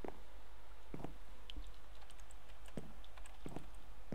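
Someone typing a Minecraft chat command on a computer keyboard, sparse clusters of quiet key clicks at an uneven pace over a low steady hum, with no talking.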